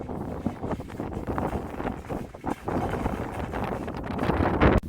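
Wind blowing across a harbour at a fishing port, a continuous rumbling buffet of gusts against the microphone with rising strength toward the end, loud and close, no speech.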